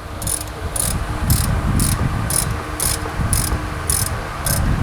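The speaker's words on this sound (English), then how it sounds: "I'm going to tighten our caliper slide pin bolts now" A ratchet tightening the brake caliper slide pin bolts on a 2014 Toyota Highlander, heard as evenly spaced bursts of crisp clicking, about ten strokes, over a low background rumble.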